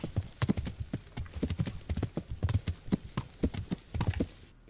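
Horse hooves clip-clop in a steady, fairly close walking rhythm in the medieval game Kingdom Come: Deliverance, a long run of distinct footfalls with no talk, ending abruptly.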